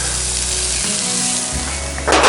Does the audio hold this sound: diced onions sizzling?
yes